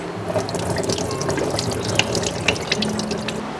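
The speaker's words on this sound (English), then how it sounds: "rinse with a little water so it's easy to come out from the bag" Tap water running over a pack of frozen organic acai pulp being rinsed in a kitchen sink, a steady close splashing stream with small drips and patters throughout.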